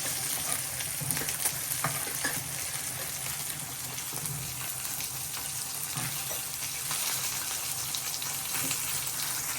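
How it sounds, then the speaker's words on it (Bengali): Fish fries in a pan with a continuous, even sizzle and crackle, quiet and close, heard alone without any talking. "এখানে আবার মাছ ভাজা দিছি বসাইছি"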